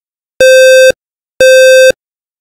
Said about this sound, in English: You should hear smoke and carbon monoxide tests.